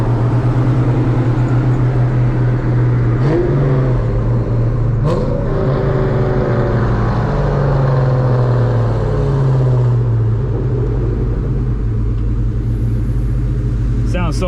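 Several 1997 car engines rumble loudly and continuously, with a few sharp revs rising and falling in pitch and a brief whine near the end.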